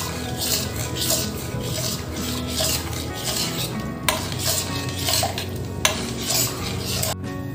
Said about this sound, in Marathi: तर गरम पाण्यात मी गूळ वितळून घेते।